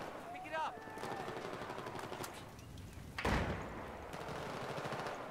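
Gunfire from the Battlefield 4 video game, a dense rattling stream of shots throughout with a sharper loud burst midway, while a player's voice talks over it.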